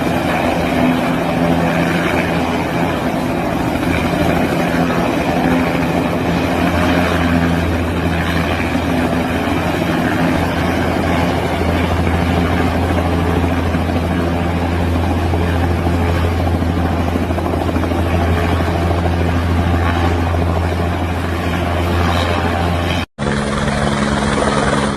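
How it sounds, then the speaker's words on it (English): A helicopter hovers and sets down on a landing stand, its rotor and engine roaring loudly and steadily throughout, with a sudden brief cut near the end. "This skilled helicopter pilot tries to land helicopter on the stand and he made it"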